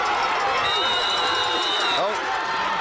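A crowd roars and murmurs in a steady, dense wash at the Southern Maine Class C final between Cape Elizabeth and Leavitt, a basketball game, with voices woven through the noise throughout.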